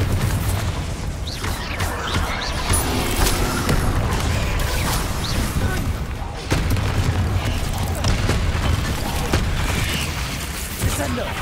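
Fire-blast spell explosions from Hogwarts Legacy's Confringo, booming blasts amid clanking combat noise and a continuous din, with a voice speaking over the action.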